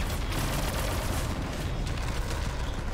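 Gunfire in the Shadowgun Legends shooter game: a dense, continuous barrage of rapid overlapping shots and blasts, loud and unbroken throughout.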